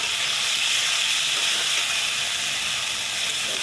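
Water hits a hot pan of frying egg curry masala, raising a steady, loud hiss and sizzle of steam that runs unbroken throughout with no voices.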